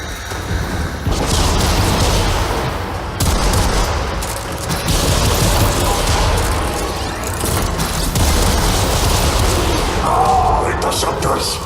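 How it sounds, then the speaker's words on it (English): Spaceship side guns in the Warframe video game firing in sustained loud bursts of rapid gunfire with booming blasts, dense and continuous through most of the stretch. "We're gonna have to use the side guns,"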